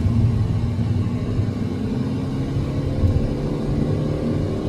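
Steady low rumble of a Peugeot 308 GTi slowing under braking on the road, a dense engine and road drone held close and fairly loud throughout, with no voices.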